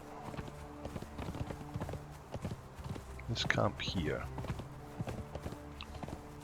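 A horse trotting in the Conan Exiles video game, with rhythmic, evenly spaced hoof clip-clops throughout, moderately close, while someone speaks briefly in the middle.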